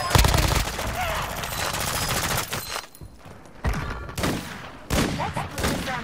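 Gunfire in a shooter video game comes as rapid automatic bursts, loud and close, separated by short pauses, with a thud or two and a game voice among the shots.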